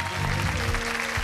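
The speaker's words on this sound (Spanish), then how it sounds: "Fuerte el aplauso para el gran Ruperto." Loud, dense applause from a studio audience on a Chilean television variety show, a continuous wash of clapping with a faint voice underneath.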